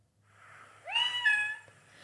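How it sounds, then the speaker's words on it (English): A phone speaker plays a brief Arctic fox call, a faint rising yelp-like cry lasting about a second in a quiet room. "An Arctic fox sounds like this."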